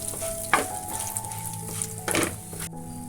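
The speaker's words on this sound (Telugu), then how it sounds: "అర డజన్ ఎండిమిర్చి ఒక స్పూన్ ధనియాలు అర స్పూన్ జీలకర్ర వేసుకుని వేయించుకోవాలి వీటిని మనం ఇలా వేయించుకోవాలి" Red chillies, coriander seeds and cumin dry roast in a hot pan for a pickle, giving a soft continuous crackle and sizzle with a few louder stirring scrapes.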